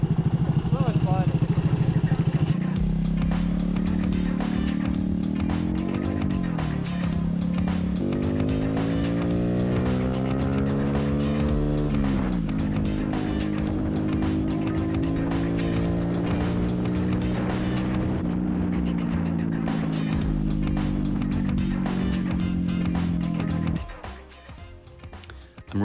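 A Honda Grom motorcycle rides through heavy city traffic, its small engine droning loudly and steadily with rising and falling pitch as it accelerates and shifts, close up with wind noise, then settling near the end.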